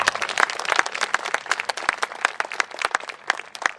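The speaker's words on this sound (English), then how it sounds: "Let's give a round of applause to Glenn and everyone that put this rally together." A rally crowd applauding, dense steady clapping from many hands throughout, close and lively with no speech over it.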